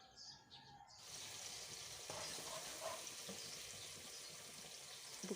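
Garlic stir-fries in a pan for a home-style ivy gourd and egg dish, breaking into a steady, close sizzle after a second of quieter room sound and holding evenly to the end.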